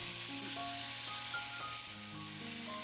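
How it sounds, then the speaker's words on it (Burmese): Rice frying in chicken fat in a pan, a steady close sizzle throughout with faint stirring scrapes and a few tonal clinks layered over it, no talking. "ခုနရေးစစ်ထားတဲ့ဆန်တွေကိုတစ်ခါတည်းထည့်ကြော်ပေးလိုက်ပါမယ်"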